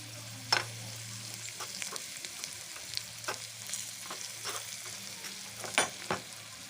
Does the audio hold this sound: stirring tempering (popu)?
yes